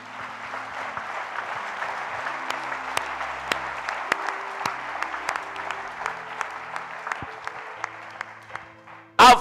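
A church congregation at a Pentecostal-style worship service bursts into sustained applause and cheering, a dense crackle of many hands with scattered shouts, steady throughout before breaking off abruptly at the end.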